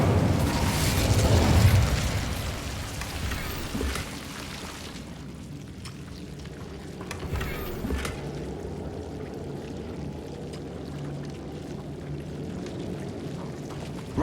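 Incendio fire spell cast in Hogwarts Legacy on PS5: a loud roaring whoosh of flame bursts out at the start, then dies away over a few seconds into a quieter crackling, rumbling background.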